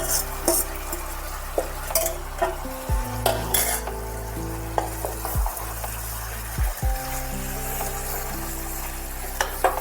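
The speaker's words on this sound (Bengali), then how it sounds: "এবার ম্যারিনেট করে রাখা মাংসটা আমি এর মধ্যে দিয়ে দিচ্ছি" Marinated chicken tossed into lightly fried onions for a chicken stew sizzles steadily in a pan, with several sharp spatula scrapes and stirring knocks standing out close by.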